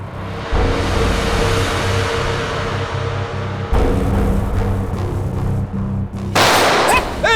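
Gunfire in a TV crime drama, dense and loud throughout, with sharp broadband bursts over rumbling action-score music and brief shifts in intensity.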